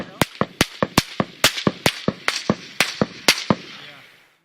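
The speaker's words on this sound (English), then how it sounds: "we hear the supersonic crack of bullets flying overhead and landing very far away" A rapid series of sharp supersonic bullet cracks passing overhead, about a dozen in quick succession, each snapping loudly with a short decay, trailing off into quiet at the end.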